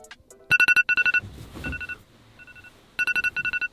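An electronic phone alarm beeps in fast bursts of four, pausing briefly between groups, loud and close, with a short rustle in the middle.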